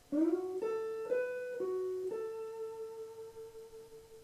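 A few plucked guitar notes, picked and slid into a short bluesy phrase, ringing out alone with a long sustained final note.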